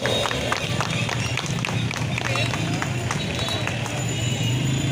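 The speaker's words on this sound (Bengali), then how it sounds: "সবাই মিলে একটু জোরে হাততালি হোক" Audience at a 75th anniversary celebration applauds loudly and steadily, a dense patter of many hands clapping close by with no break for five seconds, with a faint voice underneath.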